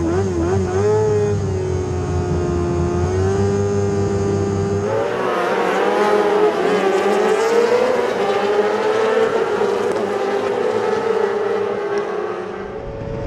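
F2 racing sidecars start a race at Croft, their engines revving high at the line, then roaring off together in a loud, rising, close wail of multiple engines that slowly begins to fade.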